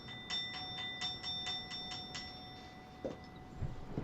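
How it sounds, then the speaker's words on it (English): A bell chimes for 4:20, striking about eight times in an even rhythm. The tones are bright and moderately soft, then fade into low background noise with a couple of brief thumps. "Brace yourselves for actual bell."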